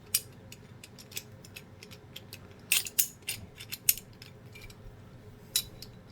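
Gray Tools wrench pliers being adjusted, a series of sharp metallic clicks and ratcheting snaps, quiet and close, scattered irregularly with a denser cluster in the middle.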